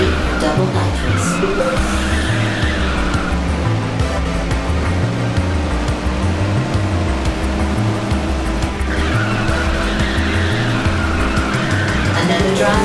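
Racing car in Ridge Racer 6 drifting under nitrous boost, a loud continuous engine drone with rising-and-falling pitch sweeps and a long steady tire screech over busy game music.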